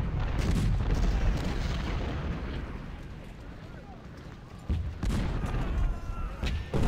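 Artillery and musket fire in the video game Ultimate General: Civil War, with dull distant booms rumbling continuously and a few sharper reports near the end, under a voice talking.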